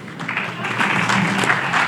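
A conference audience at a Latin American regenerative investment summit claps in a brief, dense burst of steady applause close to the recorder.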